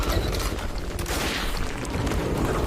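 Gunfire rattles in the video game Metro Last Light, a dense, continuous barrage of loud shots and booms with no clear gaps, close and chaotic.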